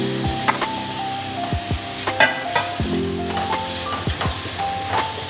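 Tomatoes drop into onion and ginger-garlic paste frying in a pan, giving a steady sizzle broken by repeated spoon clinks and scrapes as the mix is stirred, close and clear, no talk.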